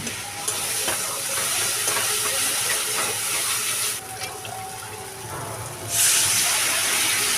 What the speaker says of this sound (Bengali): প্রেসার কুকারে যে জলটা ছিল, জলটা দিয়ে দেব।